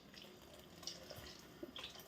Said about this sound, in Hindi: माछटा सिझिबा पई टिके पानी देइछि।